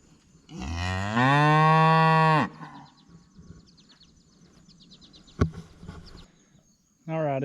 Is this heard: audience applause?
no